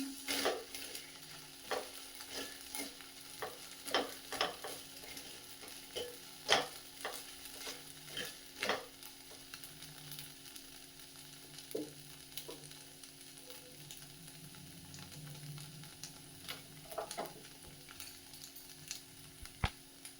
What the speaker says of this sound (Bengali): একটুখানি ভেজানো সাবু আর একটু ঘি দিয়ে জাস্ট একটু নেড়ে নিচ্ছি